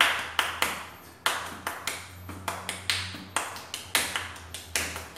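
Hands clap out a rhythm in a music lesson, with crisp claps in uneven groupings over a faint low hum, some claps louder than others; no talk.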